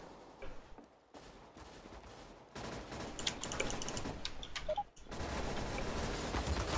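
Automatic weapon fire from Counter-Strike: Global Offensive rattles in repeated bursts, briefly dropping out before the firing resumes loud and near, with clicky mechanical sounds mixed in.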